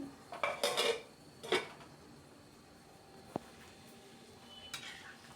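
A lid is set onto a cooking pot of thin vegetable curry with drumsticks, with a couple of bright metallic clanks close up, followed by quiet kitchen ambience and a faint later clink.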